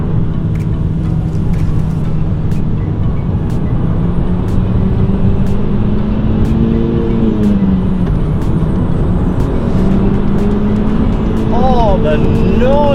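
Golf GTI driving through a tunnel, its exhaust a loud, droning note that rises and falls with throttle and echoes off the walls, with someone talking over it.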